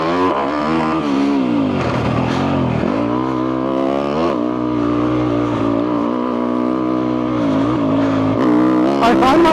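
Yamaha YZ250F dirt bike engine revving while riding, loud and close, holding a buzzing high-revving tone with pitch swoops as the throttle opens and closes, with someone talking over it.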